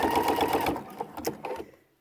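A sewing machine stitches quilt binding with decorative stitches in a brief close run of rapid mechanical clatter that slows into a few separate stitches before stopping.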